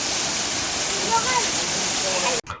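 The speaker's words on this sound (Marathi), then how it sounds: "इथे तुम्ही बघू शकता की मस्त असा धबधबा आहे" A monsoon waterfall near the Ekvira temple roars as a loud, continuous rush of falling water, close and steady, before cutting off abruptly near the end.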